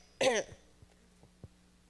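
A single short throat-clearing grunt, close and fairly quiet, followed by a few faint soft clicks in an otherwise quiet room.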